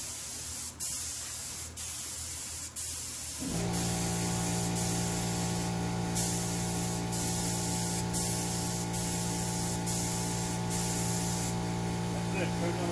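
A spray gun lays a light coat of paint on pontoon boat panels, a steady hiss broken by short pauses between passes over a constant compressor hum, with someone talking softly during the passes.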